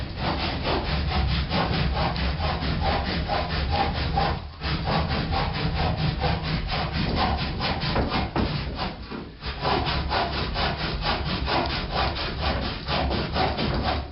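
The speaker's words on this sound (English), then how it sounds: "So I'm now sawing up what is genuinely a spare plank." A hand saw cuts through a spare wooden plank for firewood in a remote bothy on the Isle of Rum. Steady, rhythmic rasping strokes continue close by, with only two short pauses.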